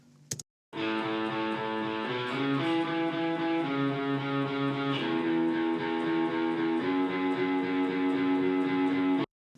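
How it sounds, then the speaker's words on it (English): Distorted electric guitar chords recorded by a microphone in a cellar ring out steadily for several seconds, sustained and roomy-sounding, with a few chord changes and no talking. "I have a guitar sound here."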